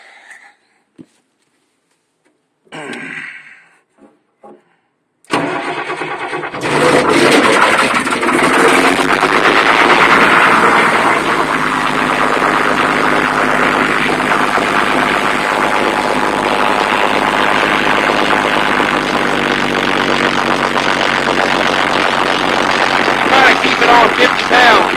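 A 1997 Thomas MVP-ER school bus with a straight-piped CAT 3116 turbo diesel cranks briefly, then catches and roars into a loud, steady idle with raw exhaust rumble; a voice speaks faintly under the engine.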